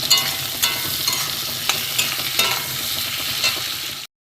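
Sliced potatoes sizzle in a pan alongside frying onion and tomato, a steady close crackle with periodic spatula scrapes, ending abruptly.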